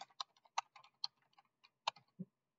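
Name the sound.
typing a command on a computer keyboard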